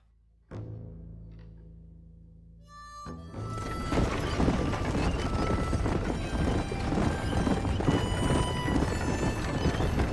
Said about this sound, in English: I guess we're gonna be racing horses for you.